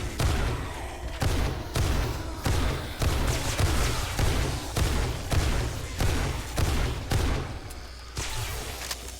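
Gunfire from the video game 7 Days To Die, fired with 5.56 rounds in a rapid series of sharp, booming shots that repeat every second or so, loud and close, with no talking over them.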